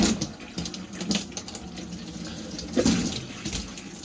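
Water runs steadily from a tap in an Elddis Majestic 185 caravan, a soft, close hiss of flow with slight splashing, heard alone without talk.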